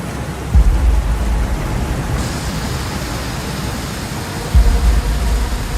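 Thunderstorm with heavy rain in Mecca, a steady loud broadband downpour with two deep rumbling thunder bursts near the start and end.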